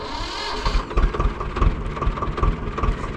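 A farm tractor engine catches and settles into a rough, low idle, chugging in a steady quick rhythm close by.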